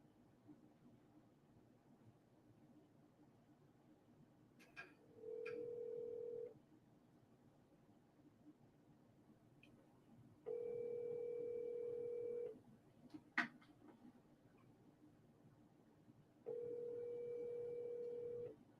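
Telephone ringback tone heard while waiting for a call to be answered: three long, steady rings about five seconds apart, moderately loud, with faint room noise in the gaps.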